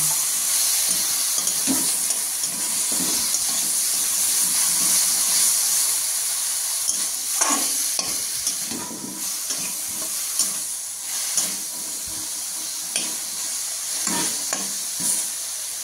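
Ground spices with salt, turmeric and a little sugar frying and being stirred for a duck egg curry, a steady bright sizzle with repeated scraping stirs throughout, loud and close, no talking.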